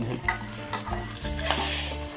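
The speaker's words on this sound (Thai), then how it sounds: "เมื่อจะทอดไข่ให้กิน" Steady sizzling of an egg frying in a hot pan, with light scraping and stirring noises over the crackle.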